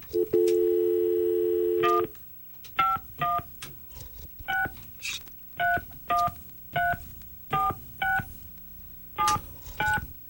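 Touch-tone telephone dialing on a radio call-in line: a long steady tone for about two seconds, then a regular run of short, clear DTMF beeps, one after another, loud with no talk.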